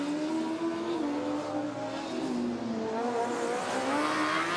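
Formula Student race cars at a UK track drive past, with engines whining and revving and pitch shifting as they approach and pass, moderately distant and steady without talk.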